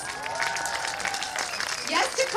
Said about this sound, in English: Kenneth, let's give them a round of applause